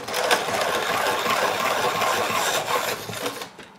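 A wooden pencil from an iMustech drawing set is turned in a sharpener, giving a continuous close, gritty grinding rasp for several seconds that cuts off at the end.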